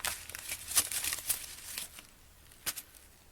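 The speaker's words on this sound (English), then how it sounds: "You're going to crumple the paper up." Paper crumpled up by hand for blotting paint in a craft patina technique, giving close, soft crinkling and rustling bursts that fade after about two seconds, then one brief final crinkle.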